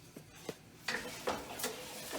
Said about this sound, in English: 3 cups, and I'm going to coat it with butter.